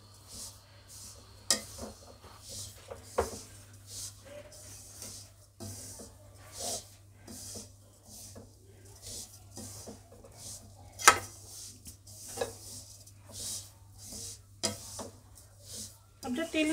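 Coconut and sesame seeds lightly roasted in a pan, giving quiet scraping stirs and faint clinks of a spoon against the metal at irregular intervals, with a low steady hum underneath.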